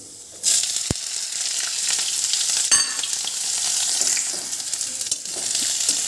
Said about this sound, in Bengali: খেটে রেখা পেঁয়াজ আর লঙ্কা ছেড়ে দেবো